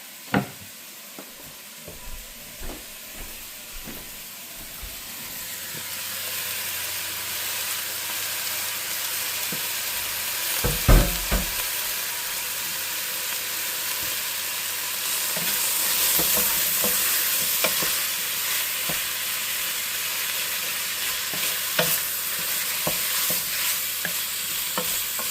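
Food bubbles and sizzles in a pot as a spoon stirs it, a continuous soft frying hiss with occasional scrapes and knocks against the pot, swelling slightly louder in the second half.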